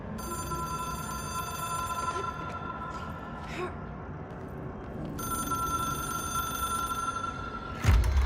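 An old telephone in the game Control rings with a bright, trilling bell in two long bursts separated by a pause, a thud landing right after the second ring.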